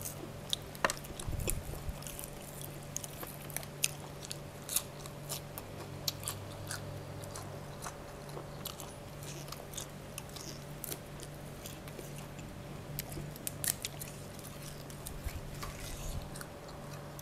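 Chewing cooked freshwater mussel-like shellfish from Sakon Nakhon, Thailand: close, soft, continuous wet clicks and crunches of eating at an irregular pace, with faint cutlery taps and no talking.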